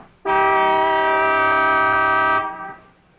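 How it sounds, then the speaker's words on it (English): One long, loud horn blast holds steady for about two seconds, then cuts off and fades away. "One long honk of the horn."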